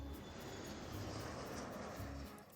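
Airplane taking off in the video game WILL: A Wonderful World, a loud, continuous engine roar filling the whole moment with a broad rumbling wash, easing slightly at the end.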